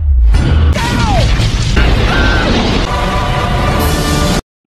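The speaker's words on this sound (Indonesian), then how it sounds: "Syukurnya ledakan itu tidak mengenai Mike the Eagle yang membawa telur" A loud, sustained cartoon dynamite blast from Angry Birds fills the clip with roaring rumble and crashing noise, with whistling and zinging tones mixed in before it cuts off abruptly.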